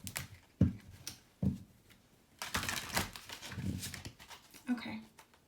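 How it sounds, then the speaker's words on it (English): A Psychic Tarot deck by John Holland gets a quick shuffle, with soft papery riffles and card slaps arriving in short bursts, then a denser run of rustling, close to the microphone. "just going to give it a quick shuffle."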